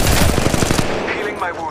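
Automatic gunfire in Apex Legends Mobile, a rapid burst of about seven close, loud shots that stops abruptly, followed by fainter game noise.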